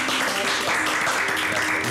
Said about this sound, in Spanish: Y cerramos con un aplauso.